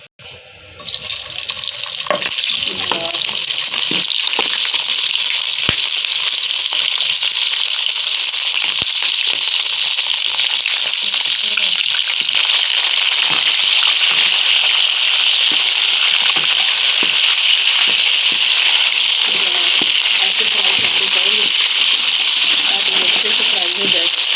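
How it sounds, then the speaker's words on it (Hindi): Boiled mutton frying in hot oil in a kadai, a loud, steady hissing sizzle that holds continuously and close for the whole stretch after a brief quiet start, with occasional crackles and pops. "अब हम इसमें अपना मटन फ्राई करेंगे।"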